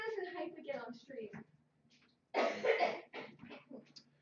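A person gives a few coughs and clears the throat at close range, mixed in with a quieter voice talking during a livestream.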